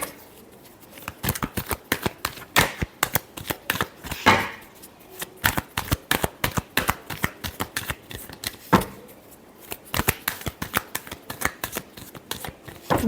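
Tarot cards being shuffled by hand during a reading, a close run of rapid crisp riffles and slaps in repeated bursts with short pauses between them, and no voices.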